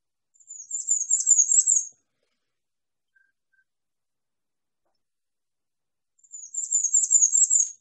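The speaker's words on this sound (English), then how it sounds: "A lot of warblers have that kind of a weaker sounding call." Two short bursts of high, thin, rapid chirping bird calls, separated by several seconds of silence; weak, buzzy-sounding warbler notes, fairly close.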